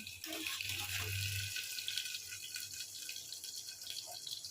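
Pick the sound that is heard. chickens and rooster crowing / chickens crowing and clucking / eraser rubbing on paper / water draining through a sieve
water draining through a sieve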